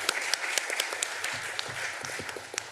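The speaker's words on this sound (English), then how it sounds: "Join me in giving a round of applause to our speakers." Modest audience applause for the speakers at the close of a session on the future of work, a scattering of distinct claps over a light steady patter, fairly quiet and even throughout.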